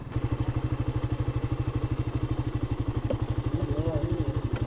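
A motorcycle engine runs nearby, its rapid, even exhaust pulses thudding steadily throughout with no break, while a faint voice or tone rises briefly near the end.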